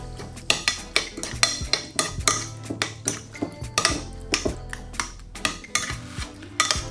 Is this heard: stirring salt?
yes